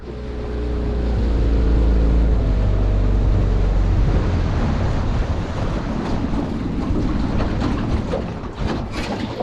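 Loud, steady rush of a river in spring flood, broad and continuous, with wind buffeting the microphone throughout; no voices.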